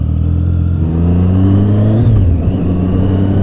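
A loud, close 2015 Triumph Street Triple motorcycle engine hums steadily and then rises in pitch as it revs, its deep tone climbing over a few seconds.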